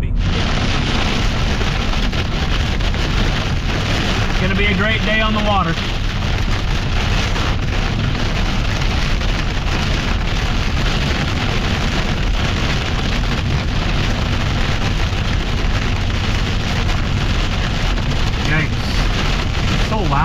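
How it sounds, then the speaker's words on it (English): Heavy rain pounds steadily on a boat on Lake of the Woods, a loud, constant hiss that fills the whole stretch, while a voice talks over it. "Loud, we have to yell over the rain."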